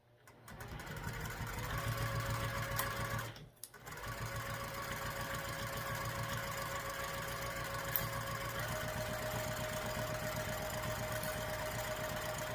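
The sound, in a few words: sewing machine basting backpack seam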